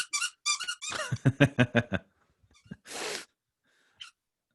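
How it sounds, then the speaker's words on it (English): A dog works a squeaky chew toy, producing a burst of shrill rubbery squeaks in quick runs, then a pause, a longer wheezy squeak and one last faint chirp, close and clear with no talk. "doggy with chew toy. right. And that's her favorite. She likes to just squeak all the time."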